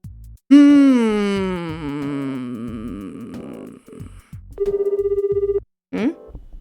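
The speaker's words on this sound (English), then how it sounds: "The hotel room phone is ringing." A hotel room telephone rings in a video game, a rapid buzzing electronic trill of about one second, preceded by a long sliding synthetic groan and followed by a short chirp.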